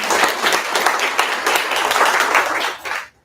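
An audience at a preschool community forum claps, a dense burst of applause from a crowd that holds steady for about three seconds before tapering off and stopping.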